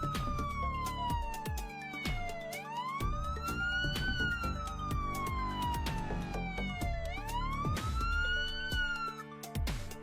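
Military ambulance siren wailing in slow rising and falling sweeps, steady and fairly close over a dense background.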